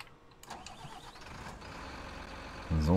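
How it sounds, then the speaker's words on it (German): Rottne forestry machine engine starting in Farming Simulator 19, a quiet low hum that ends with the engine turning over and firing up with a sudden loud, deep rumble. "Ja, das ist also diese Motorsound-Animation ist schon cool."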